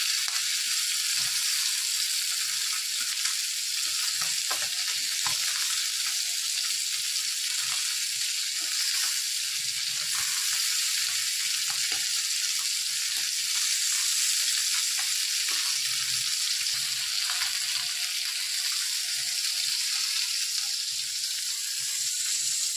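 Fish frying in masala with ginger, garlic and chilli powder gives a steady, close sizzle that runs throughout. Faint stirring clicks come through now and then, and no one talks.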